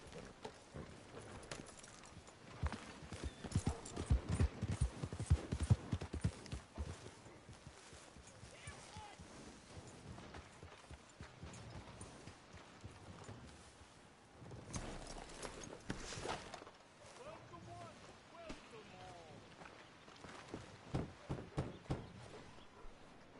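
Horse hooves clip-clop in a steady rhythm while riding in the video game Red Dead Redemption 2, loudest early on and continuing faintly under intermittent talk and game sounds.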